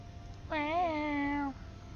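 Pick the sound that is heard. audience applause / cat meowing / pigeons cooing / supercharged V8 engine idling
cat meowing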